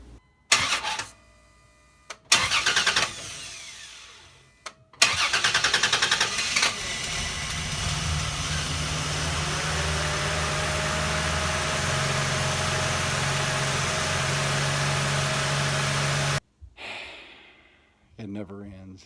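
An old truck engine cranks in a few short bursts with pauses between, then catches and settles into a long, steady, droning idle before cutting off abruptly.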